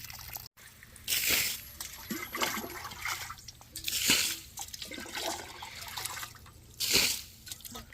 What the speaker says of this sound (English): A lot of water here. A lot of water. I'd like to see exactly where it's leaking from.